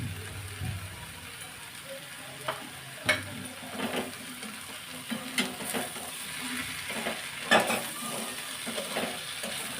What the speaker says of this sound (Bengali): শাকটা দিয়ে একটু নেড়ে চেড়ে নেব